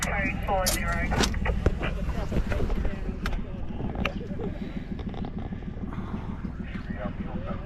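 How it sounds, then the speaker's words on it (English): Boat outboard motor running steadily on Lake Monduran during a barramundi fishing trip, a constant engine drone and wind noise with people talking over it throughout. "Turn the motor off."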